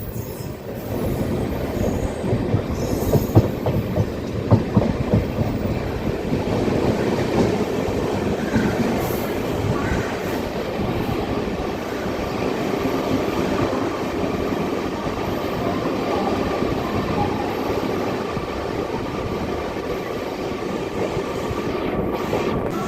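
Amrit Bharat Express train rolling into Tambaram station, a steady loud rumble of wheels and carriages with occasional squeals and rattles throughout, no voices.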